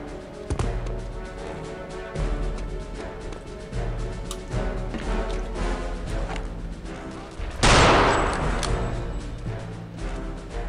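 Mauser rifle fire in Return to Castle Wolfenstein, with a single sharp, loud crack and burst late in the clip over game music and steady background noise.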